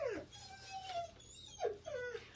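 A dog indoors whimpering and whining in a few high, drawn-out cries with short pauses between them, close by and fairly soft, with no talk.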